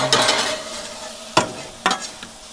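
Ribeye steak crackles and sizzles steadily on a hot griddle converted from a gas grill, with several sharp scraping clacks of a spatula stirring and moving it around.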